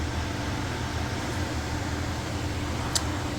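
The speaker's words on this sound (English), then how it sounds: "I got an exhaust fan back there going" An exhaust fan runs in a garage with the door open, giving a steady broadband whoosh that stays even throughout, with a faint click near the end.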